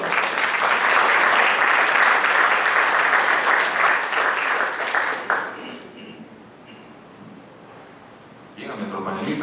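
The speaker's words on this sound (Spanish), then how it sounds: "Recibámoslo con un fuerte aplauso." Loud, dense audience applause at a university housing forum, a steady roar of clapping for about five seconds that fades to a quiet hall, with a short burst of sound near the end.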